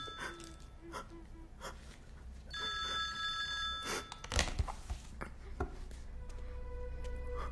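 A telephone ringing in repeated electronic bursts, fairly faint, with a few breathy sounds and clatter in between.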